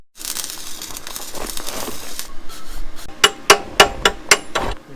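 A Lincoln welder crackles and sizzles while welding a cradle cart, dense spitting noise at first, then a string of sharp metallic knocks and taps close by.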